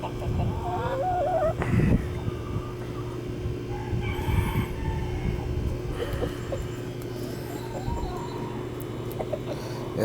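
Backyard chickens cluck near and far, with a rooster crowing in the background and soft rustling throughout.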